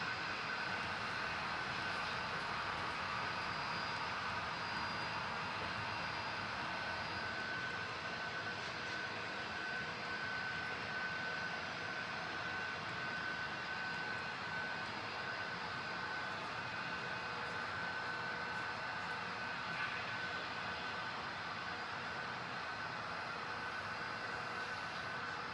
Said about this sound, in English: it sounds like there's another train right behind him, and I can kind of hear him as well